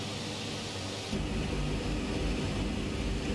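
A de Havilland Twin Otter plane taxiing in Microsoft Flight Simulator gives a steady broadband engine and propeller roar that steps up louder and fuller partway through, then holds constant.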